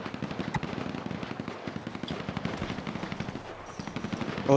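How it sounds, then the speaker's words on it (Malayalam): Rapid bursts of automatic gunfire crackle continuously in a shooter video game's final-zone turf war battle, with steady rhythmic shots and a brief louder blast at the end. "വെടിവെപ്പാണ് നടന്നുകൊണ്ടിരിക്കുന്നത്."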